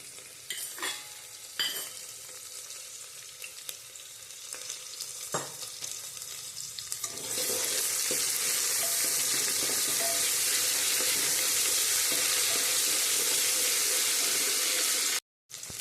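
Chopped onion and ginger-chili paste fry in a pan for a Gujarati brinjal, cauliflower and pea curry. Quiet stirring and clinks come first, then a loud, steady sizzle takes over and runs on, broken by a brief cut near the end.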